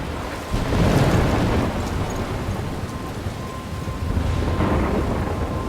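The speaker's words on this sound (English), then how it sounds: "I'm trapped in a storm?" Heavy rain pours steadily during a thunderstorm in the video game Life Is Strange Remastered, with loud rolling thunder swelling near the start and again toward the end, no voices.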